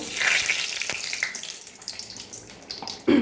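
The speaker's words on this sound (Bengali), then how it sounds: "আলুগুলো তেলের মধ্যে ভেজে নেব" Cut potatoes hiss and crackle as they fry in hot oil in a kadai, a loud, close sizzle that gradually settles, then surges sharply again at the very end.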